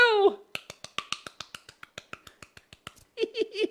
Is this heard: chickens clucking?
no